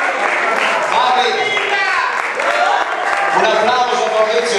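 Applause for Fabrizio at a Christmas gathering of a dance club in Pavia, steady clapping from a crowd mixed with loud chatter and voices throughout.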